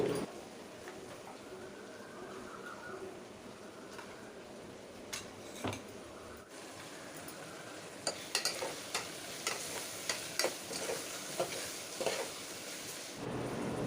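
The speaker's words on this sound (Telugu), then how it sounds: "అల్లం వెల్లుల్లి పేస్ట్ పచ్చివాసన పోయేంత వరకు అయితే ఫ్రై చేసుకోవాలి" Freshly pounded ginger-garlic paste fries in a pan with tomato, coriander and mint, giving a low steady sizzle with a series of spoon clinks and scrapes from stirring that grow more frequent toward the end.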